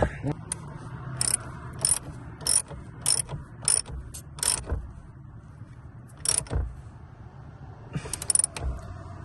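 Terminal work on the battery of a 2021 Dodge Durango R/T produces a run of sharp metallic clicks and ratcheting bursts at close range over a low background hum, in irregular clusters with pauses.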